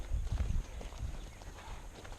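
Horse hooves clip-clopping as a horse runs off on a ranch, a burst of loud low thuds early that fades into softer, more distant footfalls.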